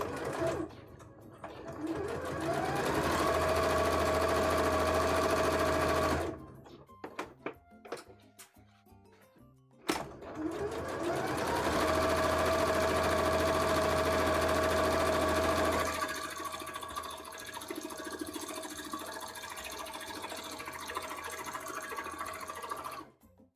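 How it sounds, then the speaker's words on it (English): A sewing machine stitches a collar in two long, steady runs of loud whirring, separated by a brief pause with clicks and handling sounds, then quieter background noise afterward. "let's sew this together."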